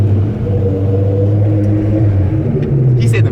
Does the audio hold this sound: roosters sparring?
no